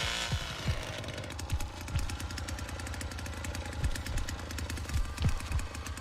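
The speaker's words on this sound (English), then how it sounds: "when he comes through here with his loud-ass chainsaw" A video game chainsaw revving in bursts, a harsh buzzing engine with repeated throttle surges and a rhythmic choppy rattle, steady and fairly close throughout.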